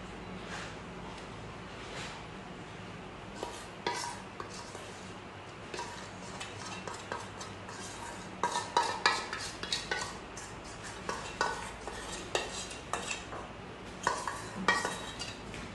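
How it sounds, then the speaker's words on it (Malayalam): Melted chocolate, which could be Dairy Milk, is poured and spread over a cake layer with a utensil. Close, intermittent scrapes, taps and light clinks come in irregular bursts, with no talking. "ആ ഒരു മെൽറ്റ് ചെയ്ത ചോക്ലേറ്റാണ് നമ്മൾ ഇതിന് മുകളിൽ ഒഴിച്ച് കൊടുക്കുന്നത്"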